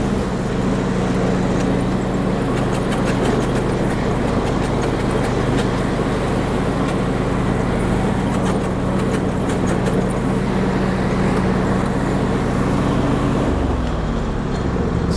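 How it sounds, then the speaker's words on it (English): Husqvarna YTH22V46 riding mower engine running at high throttle with the PTO engaged on its 46-inch deck, a loud, steady droning roar that holds constant throughout and shifts slightly near the end. "I'm going to turn up the throttle and then I'm going to engage"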